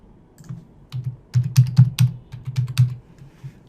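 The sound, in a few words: typing a password on a computer keyboard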